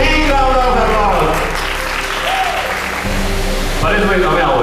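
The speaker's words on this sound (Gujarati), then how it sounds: "big round of એપ્લોઝ" Applause at a youth education seminar, with crowd clapping mixed under music and a loud hum. The sound is busy and the clapping is partly masked, with some voice-like sound in the mix.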